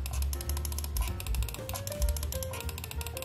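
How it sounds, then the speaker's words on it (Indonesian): Left and right buttons of an A4tech G11-580fx wireless mouse clicked repeatedly, crisp close plastic clicks in an irregular rapid series with light background hum and no talk. "Di bagian left click dan right click dari mouse ini click key, jadi menghasilkan suara jika kita pencet."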